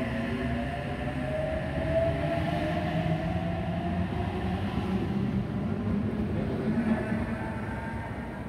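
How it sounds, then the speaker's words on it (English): An electric passenger train, an Oscar set, hums and rumbles at a distance as it pulls away from a platform, a steady low drone with faint rising whine, no voices. "Here we have Oscar Set H39 now departing platform number 2."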